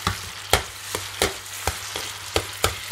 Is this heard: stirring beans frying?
yes